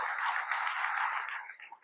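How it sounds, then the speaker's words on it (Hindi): Crowd applause at a motivational talk for network marketers, a dense, steady wash of clapping hands that holds evenly and then thins and fades out toward the end. "एक बार अपने लिए जोरदार ताली बजा लो"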